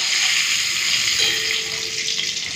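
Shrimp frying in hot oil, giving a steady, loud, close sizzle with a bright hiss that holds throughout, and a faint stir or scrape partway through.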